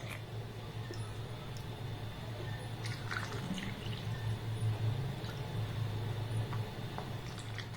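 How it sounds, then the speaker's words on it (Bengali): Homemade fruit sherbet poured into ice cream moulds, soft trickles and small drips of liquid faint and close, with a low background hum throughout. "এবার এই জলটাকে এখানে ভরে ভরে দিয়ে দেব।"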